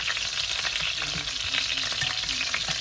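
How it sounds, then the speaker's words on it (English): Whole garlic cloves sauté in a pan with a constant, loud, close sizzle and faint rhythmic stirring ticks underneath, without any voices. "And then I'll start with just trying to saute that. Just pull the flavor to the top on that garlic"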